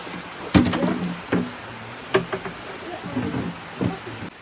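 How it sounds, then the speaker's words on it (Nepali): Rain falls outdoors during a work day, with scattered heavy drops tapping sharply on a nearby surface over a soft background patter. The hits come irregularly and there is no talking. "पानी पर्दैछ"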